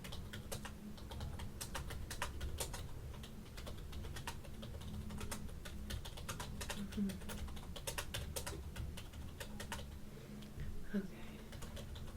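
Rapid steady typing on a computer keyboard, close and continuous throughout, with soft clicks in quick succession and a person briefly speaking once.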